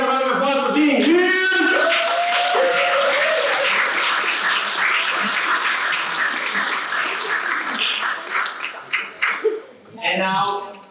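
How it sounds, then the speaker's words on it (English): Guests at a black-tie dinner gala applaud in a sustained round of clapping that swells, then thins and fades out, with a speaker talking before and after it. "Give yourself a round of applause for being here."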